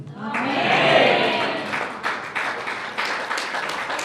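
A church congregation claps in a warm burst of applause that swells quickly and then thins into scattered claps over a few seconds.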